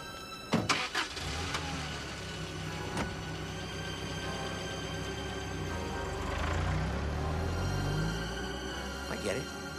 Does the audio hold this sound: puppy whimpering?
no